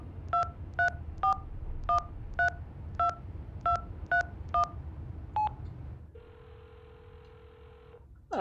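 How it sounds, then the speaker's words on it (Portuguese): A telephone number dialed in the video game Hitchhiker: about ten crisp touch-tone beeps in a quick uneven sequence, followed by a steady ringback tone, heard clearly with no talking. "Dial the number."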